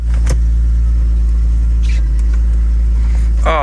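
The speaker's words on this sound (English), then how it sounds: "I'm gonna leave her running, just let her warm up and stuff" A Kia Amanti car engine idles while warming up, a loud, steady low rumble close by with a few faint clicks and rattles on top, no voices.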